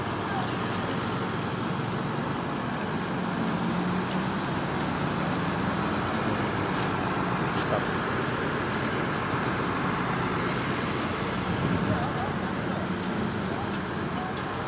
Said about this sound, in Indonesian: naik bus Damri warna biru. Ini Hino RK8.